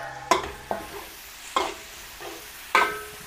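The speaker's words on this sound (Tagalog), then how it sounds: "Pag medyo luto ng bawang, lagay po natin sibuyas." Garlic is being sautéed in a large pan before onions go in, for a big Filipino batch of about 10 kilos: a steady sizzle and fry under repeated stirring, with four or five distinct scraping, clattering strokes of a utensil against the pan.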